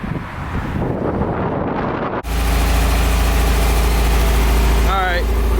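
A Nissan 240SX S13 catches and keeps running after its first start, with wind-buffeted noise giving way to a loud, steady idle that holds to the end.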